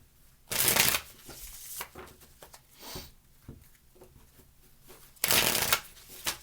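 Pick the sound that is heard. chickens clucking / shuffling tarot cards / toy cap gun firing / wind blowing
shuffling tarot cards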